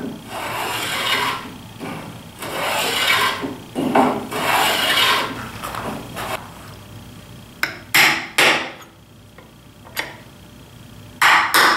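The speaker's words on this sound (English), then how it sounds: "So I'm just going to put a chamfer on it right now." A hand file rasps over a metal edge to cut a chamfer, sounding as loud, close strokes in a steady back-and-forth rhythm, then a few sharp, separate scrapes toward the end.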